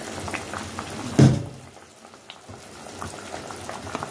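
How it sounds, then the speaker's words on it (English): Vegetables boiling down in a pot for Jamaican barbecue sauce, soft bubbling and simmering close by, with a brief louder knock or clatter near the start and no voices. "So make the vegetable go and boil right down till them get soft."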